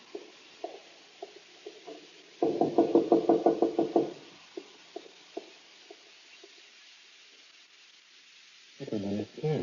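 Knuckles rap on a wooden door in short bursts, a rapid run of about a dozen loud knocks in the middle, with scattered lighter taps before and another burst at the end, mixed with speech.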